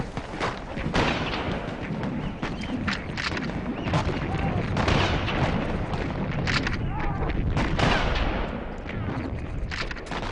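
Scattered gunshots and distant booms rattle across a World War I trench battlefield, crackling irregularly in old archival sound, with a voice talking over the firing.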